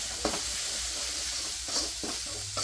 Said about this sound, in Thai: ผัดไปเลยครับผัดเครื่อง